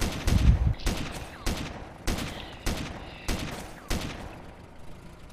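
Gunfire from the shooter game Arma 2: Operation Arrowhead during a night attack on barns, heard as sharp shots and short bursts cracking at a steady pace about every half second, with no talk.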